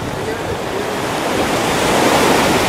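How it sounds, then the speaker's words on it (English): Waves wash in at a beach in a dense, steady roar mixed with wind rushing over the microphone, loud and close throughout. "Beach."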